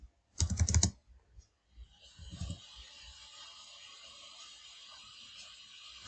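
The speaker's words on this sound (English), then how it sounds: "press and hold Ctrl Shift and plus icon on your keyboard like this" Keys pressed on a computer keyboard for a shortcut in Microsoft Word: a loud cluster of clicks, then a quieter second press, followed by steady room noise.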